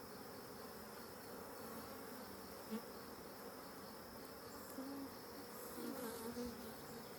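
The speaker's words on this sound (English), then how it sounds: "Wow, there is just a ton of bees." Honey bees buzzing in an opened wooden hive during an inspection, a continuous droning hum of many insects with a few louder passes near the microphone and no talking.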